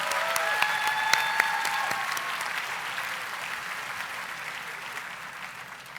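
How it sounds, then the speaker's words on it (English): An audience at a master's commencement ceremony applauds warmly, a dense burst of clapping that slowly fades over several seconds, with a few faint tones ringing over it. "Let's give Sal Khan another round of applause."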